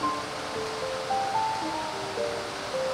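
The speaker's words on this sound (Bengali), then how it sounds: "ঝর্ণার জলটা যেতে থাকছে" At Devkundu waterfall in Odisha, the stream runs beside a path with a constant broad roar of flowing water. Faint, thin high notes drift over it, and no voices are heard.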